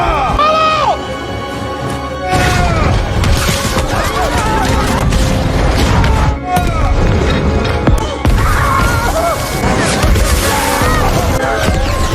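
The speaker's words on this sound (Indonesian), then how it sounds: "menembakkan meriam ke desa di pesisir kerajaan Hawaii" Heavy booming cannon blasts and crashes repeat over a dense, loud battle din, with explosive impacts landing one after another.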